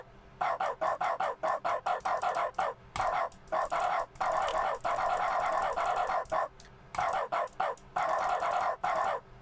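Repeated barking from a dog in the video game The Stanley Parable: Ultra Deluxe, sounding as loud, regular bursts in a steady pattern with brief gaps and some longer runs.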